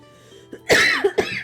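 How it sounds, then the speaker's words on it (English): A few harsh, close coughs in quick succession, loud and raspy, after a quiet moment. "I'm coughing."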